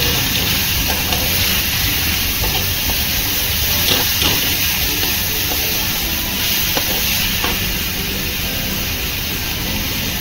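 Turmeric is sautéed in a hot pan while cooking brinjal bharit, producing a continuous loud sizzle and hiss with scattered clicks of stirring throughout, with no voices.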